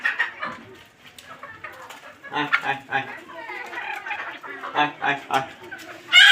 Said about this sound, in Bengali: এখানে আমাদের থেকে মুরগি চলে এসেছে